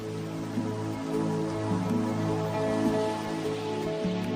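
Steady rain patters on surfaces in the Thai wilderness, a dense even wash of drops with a low continuous hum beneath it.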